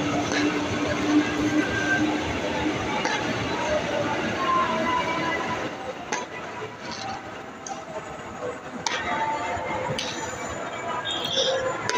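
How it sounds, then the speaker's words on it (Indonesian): A KRL commuter train bound for Jakarta Kota rumbles as it pulls out of Manggarai Station, a steady broadband roar that eases slightly after midway, with distant voices and station noise. "KRL yang menuju stasiun Jakarta Kota udah jalan."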